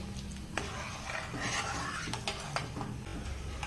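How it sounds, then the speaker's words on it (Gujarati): A boiling milk and sugar mixture for mawa malai kulfi stirred continuously in a pot, with a bubbling hiss, light scraping and occasional clinks of the spoon on the rim, close and steady, no voices. "હવે આપણે આ મિશ્રણને ચલાવવાનું જ છે સતત"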